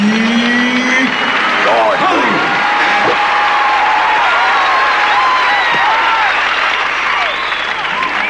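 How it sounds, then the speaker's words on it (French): Loud applause and cheering from a crowd in a French-dubbed 1989 puppet film, a dense roar of clapping with whoops and voices over it, continuous throughout. "Et maintenant, applaudissez celui qu'on ne présente plus."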